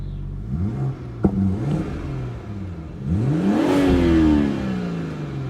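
A 2019 BMW M140i with its 3-litre straight-six and ZF automatic revs up close by, the engine note rising and falling with a sharp crackle like an exhaust pop partway through.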